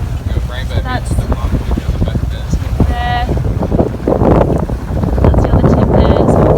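Strong wind buffets a sailboat at sea near a bar, loud gusty rumble across the microphone with rushing water, while people talk over it.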